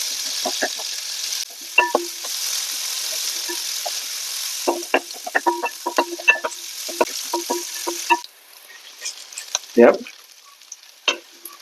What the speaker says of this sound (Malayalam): ഉള്ളി മൂത്ത് തുടങ്ങി